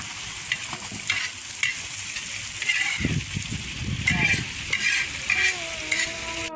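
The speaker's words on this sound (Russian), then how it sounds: "вот мы жарим лук и смотреть будем, чтобы не пригорело." Onions sizzling and frying in a pan for Tajik plov, with steady crackle and occasional stirring scrapes, fairly close, growing busier midway through.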